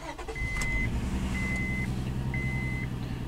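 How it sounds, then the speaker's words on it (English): A Honda Odyssey minivan with a misfire starts up, a brief cranking whir settling into a steady loud idle, close by, with three repeated electronic warning beeps over it. "Let's start up."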